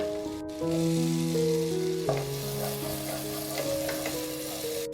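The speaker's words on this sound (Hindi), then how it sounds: "कैप्सिकम डालने के बाद हम इसे हाफ मिनट तक सौते करेंगे" Chopped capsicum sautés with masala in a pan for Indian-style masala macaroni, a continuous close sizzle and fry hiss that runs throughout, with soft background music playing underneath.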